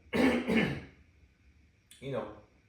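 A sick young woman coughs twice in quick succession, then clears her throat once more after a short pause, close and loud in a quiet room.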